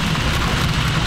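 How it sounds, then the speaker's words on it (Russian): Rain drumming on a glider in flight as a dense, loud, continuous hiss with a low rumble underneath, heard from inside the cockpit without any talking. "поэтому вот как выглядит дождь в планере."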